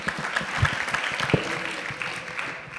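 Scattered applause from an audience at an orientation ceremony, a steady patter of clapping hands with faint crowd murmur underneath.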